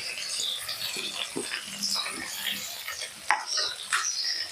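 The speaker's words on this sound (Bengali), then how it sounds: "এবার এই তেলের মধ্যে আমি প্রথমে দিয়ে দেবো পেঁয়াজ।" Onions sizzle steadily in a generous pool of mustard oil for a Bengali rui fish kalia, with a crackling hiss, faint stirring scrapes and a sharp utensil clack near the end.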